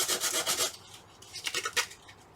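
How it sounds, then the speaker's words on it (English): Rough sandpaper rasps over a Dollar Tree craft piece to distress it, in a few quick scratchy back-and-forth strokes, fairly close and soft. "I'm going to go with a stronger sandpaper."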